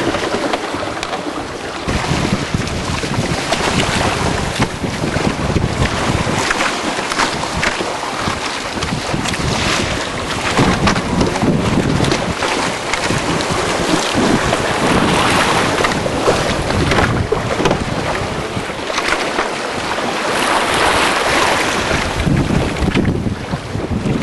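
Wind gusts across an ocean rowing boat at sea as waves slosh and surge around the hull, a loud, churning wash that swells and eases throughout, with heavy wind buffeting on the microphone.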